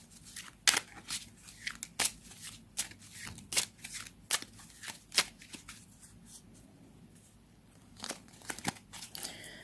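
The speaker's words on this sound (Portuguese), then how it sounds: "Vou tirar 3 cartas." Tarot cards shuffled and drawn for a reading, a close series of sharp riffling and snapping card bursts with brief quiet gaps, then a final flurry of flicks, no voices.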